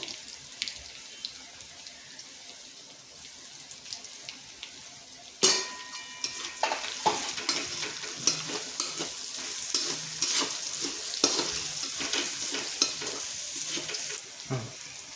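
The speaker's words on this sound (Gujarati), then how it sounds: "હવે આપણે ઝીણી સમારેલી કોબીજ નાખીશું" Finely chopped cabbage dropped into a hot pan, with a sudden burst of sizzling partway through followed by steady frying and scattered stirring scrapes; no voices.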